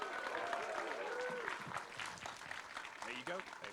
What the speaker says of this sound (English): Huge whoops and rounds of applause, please.